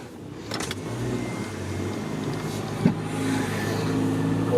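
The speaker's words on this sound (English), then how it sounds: "We're just going to move the car." A car's engine runs steadily as the car is moved, a low continuous hum with a brief bump partway through, heard close from inside or beside the car, with no talking.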